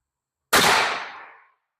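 A single sharp gunshot from a .450 Bushmaster CVA Scout V2 rifle with a 25-inch barrel, firing a Hornady Black 250-grain FTX load: a loud, close blast with a decaying tail, preceded and followed by silence.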